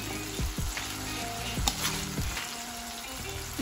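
Fried chicken momos tumbled into a pan of chili sauce, a steady close sizzle broken by a few clattering tosses and scrapes, with no talking.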